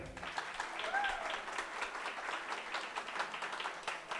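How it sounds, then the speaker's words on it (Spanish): A fairly faint round of audience applause for Sofía at a jazz concert and composition launch, with scattered rhythmic hand claps continuing steadily throughout. "Un aplauso para ella"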